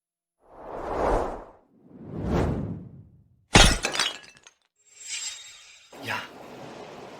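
Trophies shattering in a villa: two swelling whooshes, then a loud crash of breaking glass with scattering debris, followed by another whoosh and a second shattering impact.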